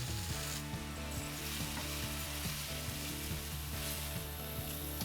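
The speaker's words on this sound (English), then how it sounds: "I like to toast the rice a little bit to coat it in the olive oil." Rice toasts in olive oil with onion, scallion and celery over fairly high heat, an even, dense sizzle that runs on steadily under background music.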